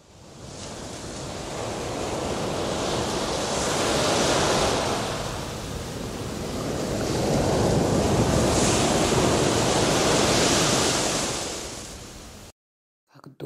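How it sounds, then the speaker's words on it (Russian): Sea waves surge and wash ashore in a loud, broad, hissing roar that swells and recedes in two long rises, alone with no voices before stopping abruptly. "Послушай, как поет волна."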